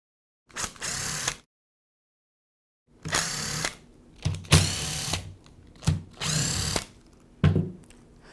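A power driver unscrews the fasteners holding the rear cover of a Milwaukee cordless hammer drill, giving several close, loud whirring bursts of varying length separated by pauses and clicks.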